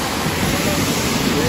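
A waterfall along a hiking trail roars in a steady, dense wash of rushing water, close and loud, with no break or change across the short stretch.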